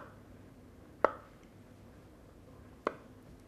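A knife chops peeled boiled eggs on a cutting board in a kitchen, making two sharp, isolated taps about two seconds apart against a quiet background.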